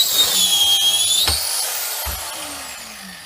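Power tool cutting a copper welding torch into lengths, a loud sustained whine with a high gliding tone and a couple of low thumps, close by with no talk.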